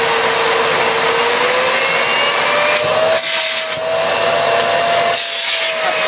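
A household vacuum cleaner runs steadily with its hose blocked off, giving a loud continuous whine whose pitch rises slowly, broken by a few brief dips in airflow.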